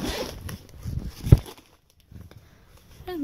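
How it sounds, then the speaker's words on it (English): Zipper being unzipped up close, a short rasp followed by a sharp snag, then quiet rustling and small handling noises. "First, it's unzip. Let's unzip."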